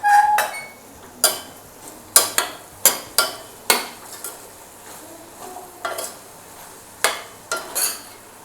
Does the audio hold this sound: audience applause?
no